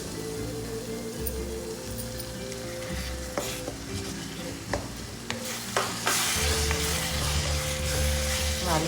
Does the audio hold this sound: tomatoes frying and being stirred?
yes